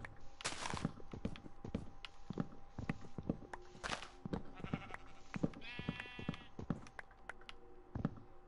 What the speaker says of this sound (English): Oh man, so many sheeps.